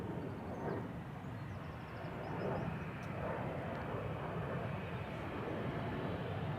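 A 19-year-old KLM Boeing 737-800 departs Amsterdam Schiphol, its engines a faint, steady distant rumble with slight swells, mostly alone with little talk.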